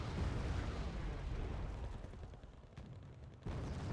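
Mortar fire and explosions in a military strategy video game, a dense continuous rumble of booming blasts that dips briefly before a fresh burst near the end, with no talking.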